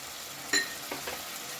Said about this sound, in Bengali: ভালো করে মশলার সাথে সমস্ত সবজিগুলোকে কষিয়ে নেব